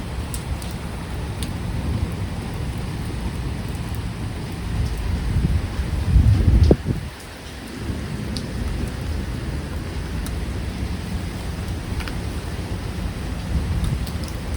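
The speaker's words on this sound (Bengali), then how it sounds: "কিন্তু বৃষ্টি এখনো হচ্ছে" Steady rain pours down in a continuous hiss after a storm, with a brief louder rumble and thump midway before the downpour settles back to an even patter.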